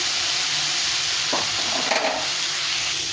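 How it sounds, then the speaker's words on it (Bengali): Vegetables frying in a pan with salt and turmeric for a small river-fish curry, a loud continuous sizzle close by with a couple of faint stirring scrapes. "এখন দিয়ে দেবো স্বাদ মতো লবণ আর পরিমাণ মতো হলুদ দিই। ভেজে নিতে হবে।"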